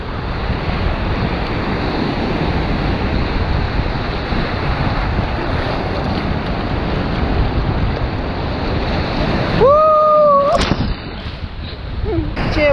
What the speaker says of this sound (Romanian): Ce valuri!